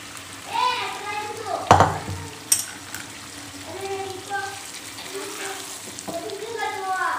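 Stuffed brinjal curry with its masala and added water sizzles in a pan as it is stirred. Speech runs over the steady frying, and sharp scraping knocks cut through near the middle.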